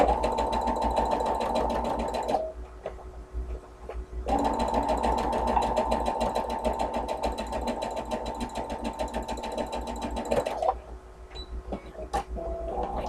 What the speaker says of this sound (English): Sew that down at needle position now, 1/4 of an inch.